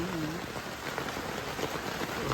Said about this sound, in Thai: เมื่อกี้เนี่ยโหทั้งลมทั้งฝนนะ